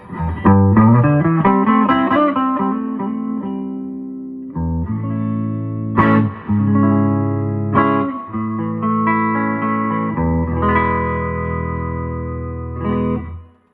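Clean 1968 Gibson ES-335 electric guitar on its warm neck pickup, strummed chords and single-note runs ringing out with effects, loud and alone with no voices.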